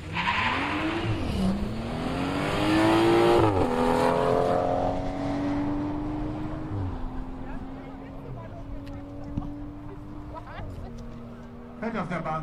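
Quarter-mile drag race at Brilon, VW Golf 7 GTD against a BMW M3: engines rev hard and climb through several upshifts, loud at first then fading as the cars pull away, with a commentator talking over it.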